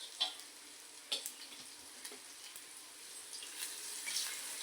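Minced garlic, a light-green chili and turmeric frying in a pan for a dill-leaf (shepu) vegetable dish, a soft steady sizzle with a few sharp crackles and stirring clicks, close and alone.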